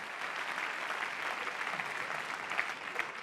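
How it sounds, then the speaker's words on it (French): Steady, fairly faint applause from a studio audience on a French comedy show, a continuous wash of many hands clapping without pause. "Je vous demande en tous les cas d'applaudir très très fort Elisabeth"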